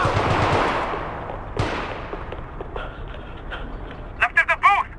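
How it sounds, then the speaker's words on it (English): Gunfire in the video game Max Payne 3, a burst of shots up front and a quick run of sharp reports near the end, heard under shouted in-game dialogue amid a tense firefight. "Shoot, Max, shoot!"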